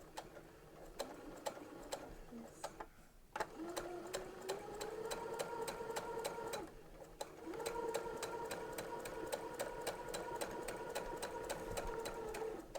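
Sewing machine stitching a hem with a hemmer foot, a fast, even mechanical ticking and whirring that runs in two long bursts separated by brief pauses, fairly quiet and close.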